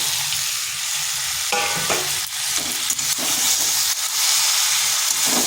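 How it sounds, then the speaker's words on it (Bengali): Eggplant pieces sizzle loudly in a hot pan while they are stirred, with scraping and clattering bursts over a continuous frying hiss. "এইভাবেই কষিয়ে নিতে হবে। দিয়ে দিচ্ছি বেগুনগুলো"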